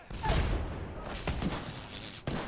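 A grenade explodes in Apex Legends with a muffled, close boom at the start, followed by a couple of smaller thumps amid game noise.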